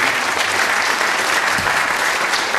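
Loud, dense applause from an outdoor jazz concert audience for a quintet, a continuous wash of clapping with no pauses.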